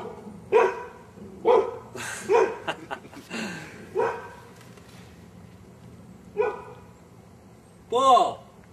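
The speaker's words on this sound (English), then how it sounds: "Calm that dog down." A dog barks in a series of sharp, separate woofs spaced a second or so apart, ending in a drawn-out whining yelp, loud and fairly close with talking in between.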